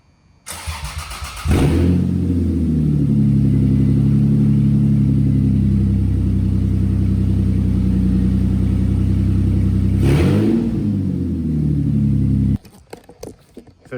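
A Lexus IS300 with freshly wired W58 manual swap cranks and fires, then settles into a steady loud idle for about ten seconds with a brief blip before cutting off, heard close up.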